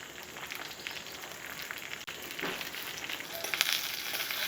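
Mustard seeds, cumin, crushed garlic, broken red chillies and curry leaves fry in hot oil, giving a steady close crackling sizzle with brief pops that grows somewhat louder toward the end.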